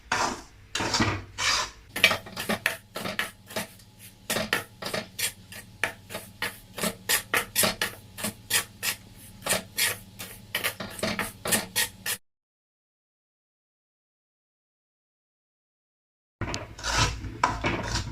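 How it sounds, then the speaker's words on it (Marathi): Coarse semolina dry-roasting in a pan for karanji, stirred with a spatula that scrapes in quick, steady strokes. The scraping breaks off into a few seconds of silence, then starts again. "रवा आपला मस्त असा भाजून झालाय"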